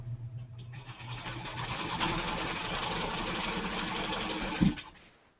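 A sewing machine stitches quilt fabric for a sampler quilt block, running in one steady, close, mechanical whir of rapid needle strokes for several seconds before stopping with a brief clunk.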